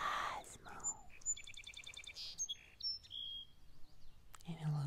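Outdoor birdsong at a picnic spot, with several clear chirps and rapid trilled tweets at close to moderate distance, broken by pauses, and a soft voice speaking briefly near the start and end.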